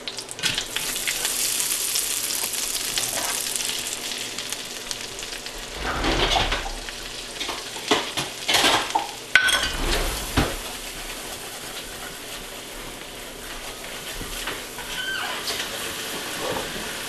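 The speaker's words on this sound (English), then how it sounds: "I'll add the flour and I'll make a roux to that." Butter and flour roux sizzling steadily in a pan for biscuit gravy, a close, continuous hiss broken now and then by louder scrapes of stirring.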